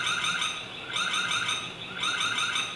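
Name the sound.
alarm siren of a Zosi C308AH security camera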